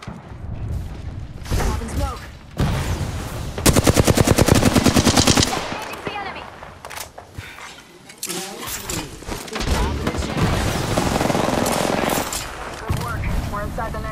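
Automatic gunfire in Apex Legends, playing as Mirage: loud rapid bursts of shots in several volleys with pauses, mixed with game effects, while a voice talks over the action.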